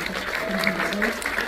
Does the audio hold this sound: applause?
yes